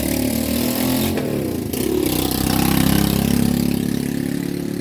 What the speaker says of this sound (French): Ça, c'est le véhicule officiel de la ville. Qui ramasse les vidanges. Le tricycle à vidange.